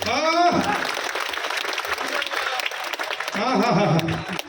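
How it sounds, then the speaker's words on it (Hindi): Audience applause at a Hindi poetry recital (kavi sammelan), with clapping running under the steady voice of a poet reciting verse throughout. "और इसी बात पर दे दो ताली"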